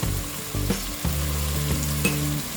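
Spiced rice masala with tomato, salt and turmeric fries loudly in a pan, a strong continuous sizzle broken by several scraping stirs and clanks of the spatula.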